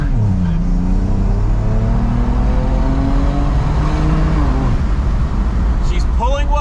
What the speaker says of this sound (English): Let's go full throttle.